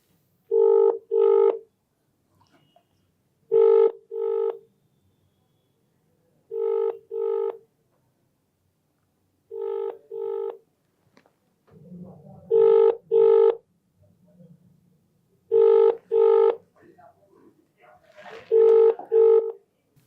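A phone call rings out unanswered, its ringback tone sounding as a repeated double ring about seven times at a steady pace, with faint voices murmuring in the background.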